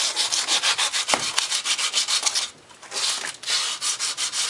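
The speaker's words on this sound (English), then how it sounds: "now we're touching it up with the very fine, which is 220 sand grit sandpaper" Aluminum cleaver blade being sanded by hand with fine 220-grit sandpaper, a steady run of rhythmic scraping strokes, close and loud, with a brief pause partway through before the rubbing resumes.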